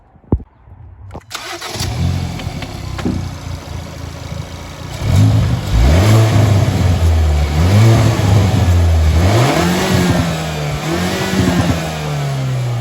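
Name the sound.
car engine revving with induction kit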